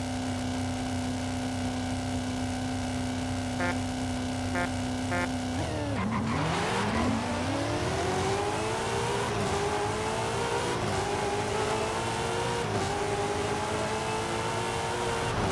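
Mazda Miata race cars in Forza Horizon 5 idle with a steady engine drone, then launch hard at about six seconds, engines revving and climbing through the gears in a loud, continuous roar.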